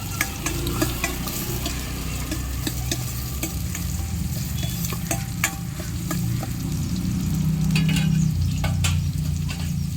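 Onions frying and being stirred in a pan for sambar, a loud steady sizzle with frequent scraping stirs throughout and the frying swelling near the end.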